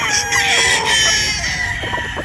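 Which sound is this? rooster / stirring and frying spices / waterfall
rooster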